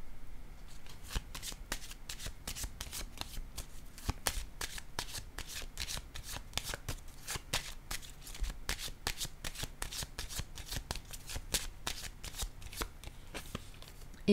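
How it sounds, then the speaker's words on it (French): Playing cards are shuffled and drawn for a tarot-style card reading, a steady run of rapid riffling flicks and soft slaps that continues close and clear throughout, with no talking. "Je vais piger une autre carte."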